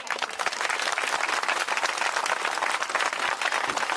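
Crowd applause at a village madai fair gathering in Bemetara, Chhattisgarh, dense steady clapping from many people sustained for several seconds, loud and even throughout.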